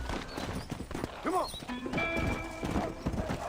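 Horse hooves clip-clop steadily in Red Dead Redemption, with a clear neigh partway through and faint speech underneath.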